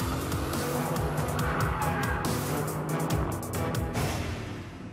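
An Aston Martin Vantage V8 drifts hard with an electronic limited-slip differential, its engine roaring loud and close through two gear shifts as the tires squeal continuously over the whole stretch.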